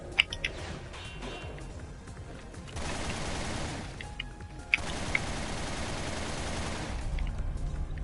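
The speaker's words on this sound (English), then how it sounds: "use it kind of like as a machine gun, except a more high-powered one" Dense, sustained bursts of high-powered machine gun fire from a video game, loud and continuous with brief lulls and sharp individual cracks across the stretch, no talking over it.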